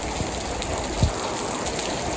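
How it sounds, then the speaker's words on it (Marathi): Heavy rain pours down outside a house in steady broadband wash, with wind blowing and water flooding in front of the home; a couple of brief low thumps break through the constant, fairly loud downpour, with no voices. "हे बघा, खूप जोरात पाऊस आलेला आहे आता"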